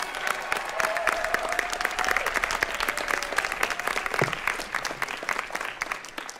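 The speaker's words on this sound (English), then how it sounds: "A round of applause for them, please." An audience at a graduation commencement ceremony claps for the band in sustained, dense applause, loud and even throughout, with no talking over it.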